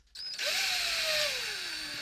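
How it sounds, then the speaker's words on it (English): Cordless drill boring into a wooden door frame: the motor spins up sharply, then a loud, close whine holds and slowly drops in pitch as the bit bites into the wood, with no talking. "You take your cordless drill with your drill bit."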